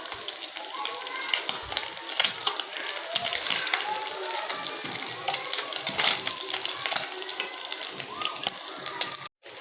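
Small river puti fish fry in hot oil with a steady crackling sizzle that runs throughout, interrupted by brief stirring clinks, while a voice speaks now and then over it.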